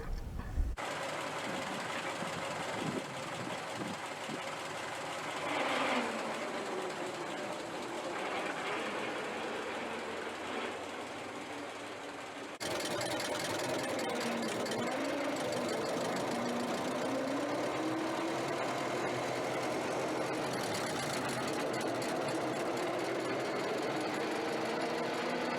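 A 1918 Ford Model TT truck engine runs steadily while driving, a rapid mechanical clatter and rhythmic knocking that holds throughout, with gear and road noise shifting partway through.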